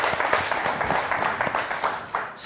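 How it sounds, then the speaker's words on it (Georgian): An audience claps for two young comedians at a comedy show in a hall, a dense, continuous patter of applause lasting a couple of seconds at moderate loudness. "კარგი აპლოდისმენტები ბიჭებს"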